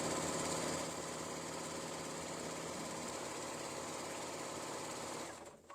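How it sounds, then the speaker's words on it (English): A sewing machine runs steadily, stitching two pieces of fabric with right sides together at a quarter-inch seam while making an apron, a close, even mechanical whir that holds for several seconds, then slows and stops near the end. "I'm sewing on my chorus today. Love this machine."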